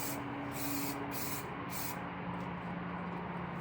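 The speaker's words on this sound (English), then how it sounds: "Give it a good test spray." Aerosol spray can releases a steady pressurized hiss in a test spray, followed by short bursts as a light tack coat goes onto a part for hydro dipping; close and continuous, no voices.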